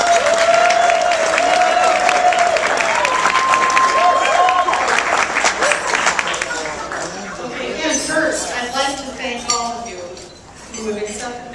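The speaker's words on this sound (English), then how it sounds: "Let's give a round of applause for Sue Saltesiak." A wedding reception crowd applauds after a toast is introduced, sustained clapping mixed with clinking glasses and cutlery and talk over it, tapering off toward the end.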